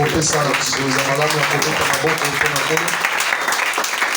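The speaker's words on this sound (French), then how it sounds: "Est-ce qu'on peut donner une très bonne offrande d'acclamation?" A church congregation's acclamation offering: dense, loud clapping and cheering that fills the space continuously, with voices calling and singing over it.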